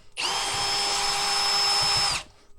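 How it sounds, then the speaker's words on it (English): A handheld power tool whirs steadily for about two seconds as it backs bolts out of a car inverter, a loud close high-pitched drive with a sharp start and stop. "I have a highly calibrated automotive tool here I'm going to use to start pulling out some of these bolts"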